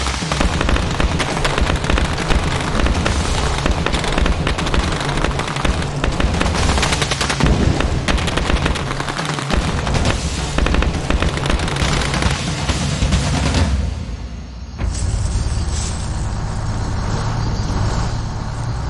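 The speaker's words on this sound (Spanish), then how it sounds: "Se oyó el primer disparo del intento de golpe de Estado." Dense, loud gunfire from a coup attempt, automatic bursts and shots crackling continuously in an unbroken barrage that briefly dips before resuming, heavy and close throughout.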